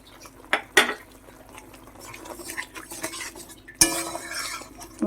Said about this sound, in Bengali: মশলাটাকে আমি বেশ কিছুক্ষণ কষাবো